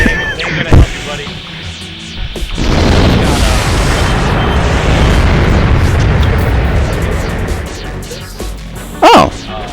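Vertical launch missiles explode in Armored Core 2 as a loud, rolling blast rumble that swells after a couple of sharp pops, holds for several seconds, then ends in another sharp hit.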